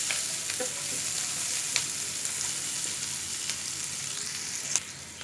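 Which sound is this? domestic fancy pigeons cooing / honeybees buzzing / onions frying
onions frying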